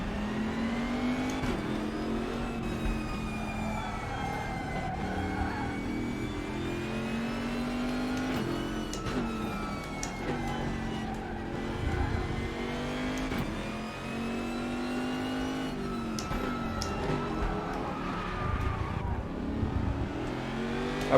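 Race car engines roar steadily in the RaceRoom racing video game, a continuous loud drone with rising and falling revs as cars accelerate and shift, no talking over it.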